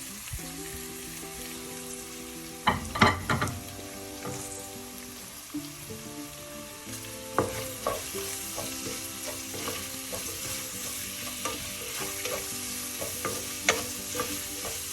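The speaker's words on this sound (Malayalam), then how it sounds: "എല്ലാം കൂടെ ഒന്ന് മൂക്കട്ടെ." Crushed shallots fry in a pan for a white tuna curry, sizzling softly and steadily while a spoon stirs and scrapes now and then, with a louder clatter of stirring near the start and no talking.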